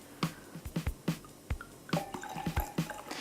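Steenberg sparkling wine, a South African MCC, poured into a glass for a second pour, giving a quiet run of irregular drips, splashes and soft fizzing taps that starts and stops over a few seconds.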